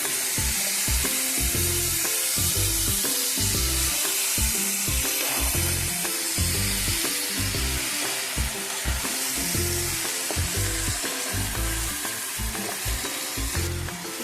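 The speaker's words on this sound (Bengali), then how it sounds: "খুলে আমি এটাকে ভালো করে এবার ওপর থেকে নিচে নাড়িয়ে দেবো" Vegetables cooked with dried fish (shutki) in the Bangal style sizzle steadily in a pan. Repeated scraping strokes of the spoon on the pan's surface set up an even rhythm, and no one speaks.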